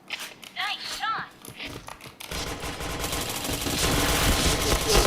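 Rapid automatic gunfire rattles loud and continuous in a shooter video game, following brief scattered shots and game sound effects, with voices talking over it.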